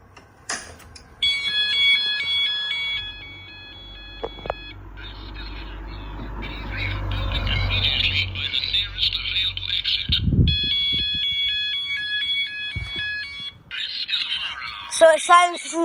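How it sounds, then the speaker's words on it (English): A car fire alarm system under test sounds a loud repeating electronic beeping tone in long steady bursts, broken by a low rumbling stretch and a short pause, then resuming; people talk briefly near the end. "Alright, we're ready to set the alarms off."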